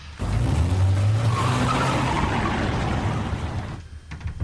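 A car roars off with a long skid and tyre squeal, loud and close, holding steady for several seconds before cutting out abruptly into quiet.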